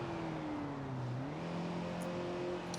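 Game-simulated sports car engine in BeamNG.drive accelerating hard, a steady loud drone whose pitch dips briefly and then climbs again as the car builds speed, heard alone without any talking.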